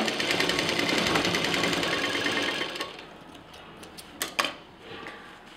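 A sewing machine runs steadily for about three seconds while stitching a gathered frill onto fabric for a handmade holder, then stops, leaving a few soft handling clicks and fabric rustles.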